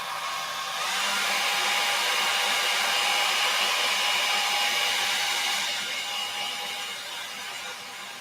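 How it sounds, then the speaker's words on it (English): A hair dryer blows in one continuous loud whoosh for several seconds, then eases off slightly toward the end. "I'm going to take my hairdryer and I'm just going to give this a quick blast"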